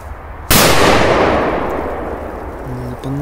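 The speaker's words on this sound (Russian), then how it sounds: "Вот такая петарда." A powerful Super Banger firecracker goes off in one loud, sharp blast. Its booming echo rolls on and slowly fades over a few seconds, and a voice begins speaking as it dies away.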